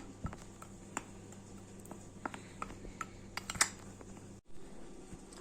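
A spoon stirs cocoa powder and powdered sugar together in a bowl, making light scraping sounds with scattered small clinks and taps against the bowl. The sounds come close and moderately quiet, with no talking.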